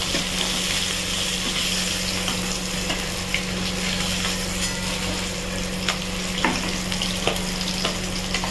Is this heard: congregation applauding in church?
no